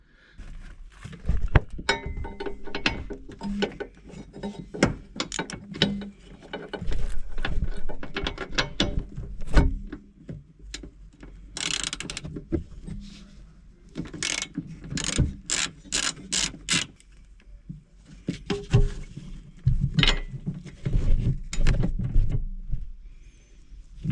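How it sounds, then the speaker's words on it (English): A ratchet loosens three nuts on a Eunos Cosmo's suspension while coilovers are being fitted, giving bursts of loud, close clicking, with pauses and clanks of metal between them. "So that's the first thing I'm gonna do, is remove those 3 nuts."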